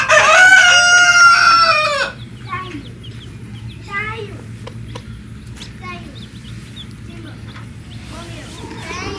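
A loud rooster crow opens, then soft, high peeps from a hen's newly hatched chicks and occasional clucks scatter over a quiet barnyard background.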